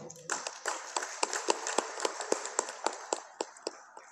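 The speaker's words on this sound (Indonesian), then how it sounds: "Kita beri aplaus untuk teman-teman itu." Applause for the organising committee at a university celebration of an Indonesian language programme, a burst of many hands clapping with sharp, uneven claps that thin out toward the end, close and lively.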